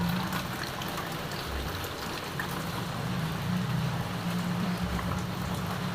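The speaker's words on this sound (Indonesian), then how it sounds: "hujannya rintiknya mulai deras." Steady rain grows heavier over a village on a wet morning, a dense, even hiss of falling drops with a low rumble underneath, continuous and fairly close with no voices.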